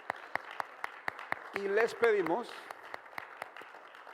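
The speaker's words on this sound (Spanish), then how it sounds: "con un fuerte aplauso a Dios por sus vidas" Church congregation applauding during a Spanish-language worship service, a steady run of sharp, evenly spaced claps heard throughout, with someone speaking over the middle of it.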